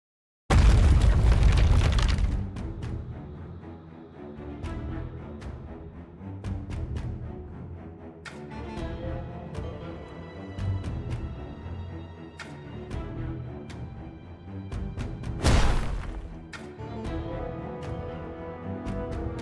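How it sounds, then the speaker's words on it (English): A huge explosion opens, followed by rumbling booms, scattered gunshots and a second loud blast, a continuous chaotic battle in the game Goddess of Victory NIKKE. "I hear gunfire and explosions. There must be a battle going on."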